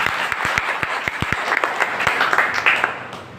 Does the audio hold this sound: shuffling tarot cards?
no